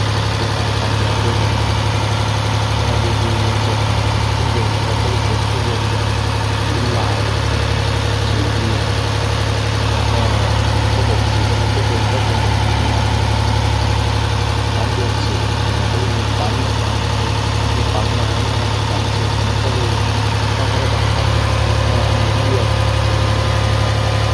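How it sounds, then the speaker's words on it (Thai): Six-cylinder diesel boat engine idling steadily, a loud continuous low hum with a constant tonal drone and mechanical vibration, unbroken throughout with no pauses. "เครื่องยนต์ก็เป็นเครื่องยนต์ดีเซล6สูบ"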